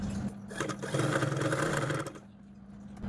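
A sewing machine stitches lining cloth onto the main fabric of an umbrella dress, its motor running in a steady close whir that swells in the middle and eases off toward the end.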